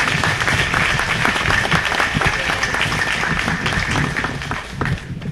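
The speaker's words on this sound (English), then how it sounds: "Let's hear applause for both of them for appearing here with us tonight." Audience at a Harris County Republican Party forum applauding the two Texas GOP chairman candidates, a loud, dense wash of clapping from a crowd that holds steady for several seconds and fades slightly near the end.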